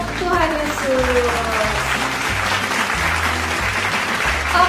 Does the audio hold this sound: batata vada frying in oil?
no